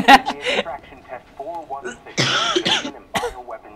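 Several harsh, breathy coughs and throat-clearing bursts from a young man gaming on Prototype 2, coming close to the mic in a cluster near the end, mixed in with casual Turkish chatter and laughter.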